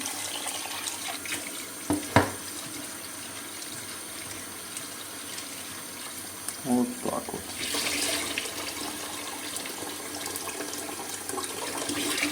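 Water runs steadily from a tap into a pot, with a couple of clunks and a short spoken phrase partway through.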